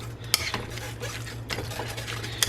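A potato smasher presses a bison burger patty in a stir-fry pan, giving a close, steady sizzle with sharp metallic clinks at the start and end.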